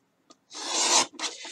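Paper pages for a concertina art journal being trimmed, a close dry rasping cut that runs for about half a second, breaks briefly, then resumes, with no talk.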